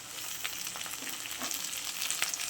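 Chopped onion fries with ginger, garlic and green chili paste, giving a close, steady sizzle broken by small crackles and light stirring taps.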